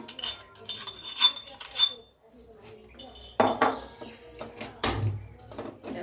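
A spoon stirs and scrapes laddu mixture with ground roasted nuts in a metal pan, giving irregular clinks and clattering knocks in short bursts with quiet gaps between them.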